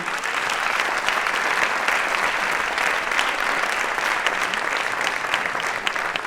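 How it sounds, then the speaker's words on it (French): An audience at an event applauds a local artist, a steady, dense wash of clapping from many hands that continues throughout without talk. "Vous pouvez applaudir Denis, artiste local."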